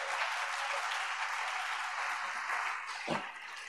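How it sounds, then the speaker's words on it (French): A church congregation applauds at a worship service, a dense, steady wash of clapping that holds throughout, with one sharper shout-like accent near the end. "Acclame pour lui."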